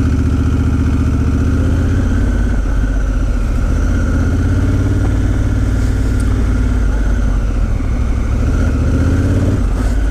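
A Honda Africa Twin motorcycle ridden off-road in G mode with traction control and rear ABS off, its engine a loud, steady mid-pitched drone with small swells in revs throughout.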